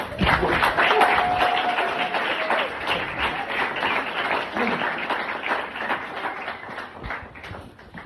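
Audience applause for a guest at a Spanish-language religious talk, a dense, steady wash of many hands clapping that fills the room and slowly thins toward the end.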